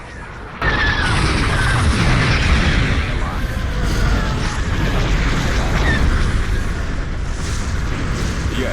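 Super laser blasts in a Star Wars space battle video game, heard as a heavy, sustained rumbling roar that kicks in abruptly after a brief quieter moment and stays loud and dense to the end, with faint voices underneath.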